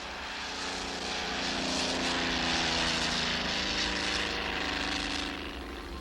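A propeller airplane drones overhead on an aerial tour of the city, its engine roar loud and sustained, swelling to a peak and then easing off slightly as it passes.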